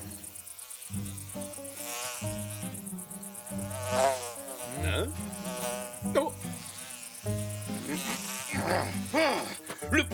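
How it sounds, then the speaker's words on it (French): Cartoon housefly buzzing through a scene from the animated Zorro series, a steady insect drone that runs throughout over music, with voices and exclamations breaking in now and then. "Le premier qui réussira à attraper cette mouche aura droit à un repas complet offert par les autres."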